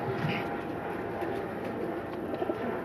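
Pigeons coo softly in a Lahore loft where a breeder keeps red-eyed crossbred birds, a low continuous murmur with a faint rumble underneath.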